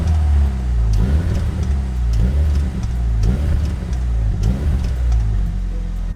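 A BMW F70 M135 fitted with a Remus exhaust, in sport mode with the valves opening, gives a series of short throttle blips. The deep burbling rumble swells and falls in regular pulses, close up and steady.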